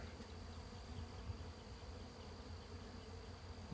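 A bee swarm moving into a freshly set swarm trap baited with swarm lure, heard as a steady, dense insect hum that holds evenly throughout with no voices.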